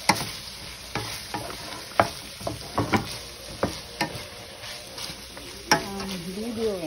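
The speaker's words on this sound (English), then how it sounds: "I gotta stir this" Fresh vegetables for lumpia sizzle steadily in a pan while a utensil scrapes and knocks in a loose, repeated rhythm, close and moderately loud, with no talking.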